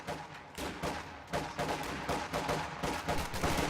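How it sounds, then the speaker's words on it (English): A heavy machine gun in a strategy war game fires rapid, loud bursts amid other battlefield gunfire, a dense, continuous rattle of shots throughout. "Heavy machine gun team ready for orders."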